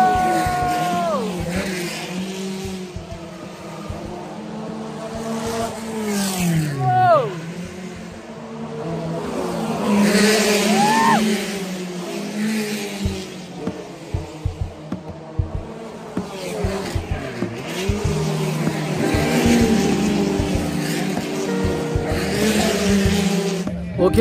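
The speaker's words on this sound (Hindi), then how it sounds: "देखना फिर से गाड़ियों का राउंड वापस से आया है, तो देखना आप लोग भी गाड़ी वापस से आ रही है।" Formula E race cars lapping a street circuit in Hyderabad, their high electric whine rising and falling as several pass in turn, loud and close, with brief talk from spectators nearby.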